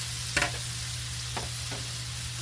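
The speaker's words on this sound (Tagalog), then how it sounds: "Haluin muna natin." Tofu being stirred in a cooking pan gives a steady low sizzle, with one sharp scrape of the utensil against the pan and two fainter strokes after it, close by and without talk.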